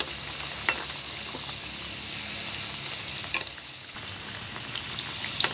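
Pieces of nimki dough deep-fry in hot oil until brown, giving a loud, continuous close-up sizzle with occasional light clicks of a utensil against the pan.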